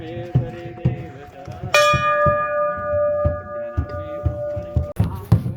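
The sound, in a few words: temple bell ringing at Tungnath temple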